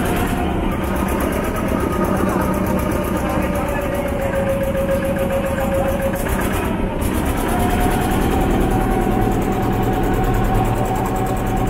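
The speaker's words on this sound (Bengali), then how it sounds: "দেখো নৌকা ছাড়ছে, ঘাট থেকে সরিয়ে দিচ্ছে" A boat engine drones steadily and loudly as the boat pulls away from a riverbank ghat at Khoyramari Char in the Sundarbans, with people talking over the continuous rumble.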